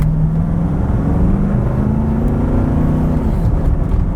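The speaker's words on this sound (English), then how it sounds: "All right, I'm gonna floor it here." A Nissan Titan Platinum Reserve diesel pickup truck is accelerating at full throttle. Its engine gives a loud, steady, close-up drone whose tone climbs gradually and then settles, with no talk.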